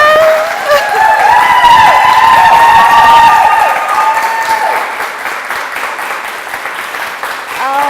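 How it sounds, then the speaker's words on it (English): A loud burst of dense applause with high whoops and cheers on top, gradually thinning out toward the end. "So everybody, clap and yell as loud as you can."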